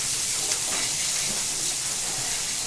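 Crushed garlic and green chili paste is sautéed in a pan with curry leaves for a dried bombil thecha, producing a steady, bright sizzling hiss at an even level with no voices.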